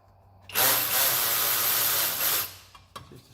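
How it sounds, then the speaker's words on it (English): Loosening the bottom turbo tube hose clamp on a 3.5 EcoBoost Ford F-150 truck, likely with a power driver: one loud, steady whirring burst of about two seconds, close up, followed by a few faint clicks. "Now we're going to take the bottom clamp loose, bottom turbo tube."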